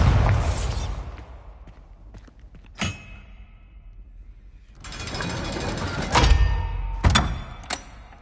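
Hogwarts Legacy's Bombarda blasting spell goes off in several loud, crackling bursts, with a long roaring blast in the middle and sharp hits in between, separated by quieter stretches.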